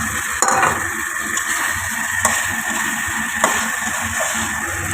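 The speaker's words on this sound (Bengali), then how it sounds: "এবারে পটলটা অ্যাড করে দিচ্ছি" Pointed gourd pieces going into hot spiced oil in a pan on a Bengali stovetop, giving a steady close sizzle with a few scraping stirs and sharp utensil clinks across it, no voice.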